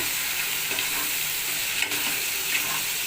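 Spice paste with turmeric and chilli sautéing in a pan as prawn dal is prepared, giving a continuous dense sizzle with light stirring scrapes and a couple of brief clinks.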